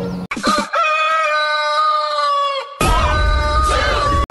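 A loud rooster crows close by in one long drawn-out call, followed by a rough burst of noise and another crowing cry.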